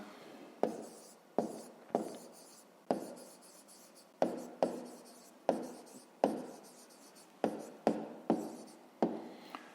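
Pen writing by hand on paper while working a 5th-grade maths exercise on the perimeter of an octagon, with a steady series of close scratchy strokes, about a dozen bursts with no speech.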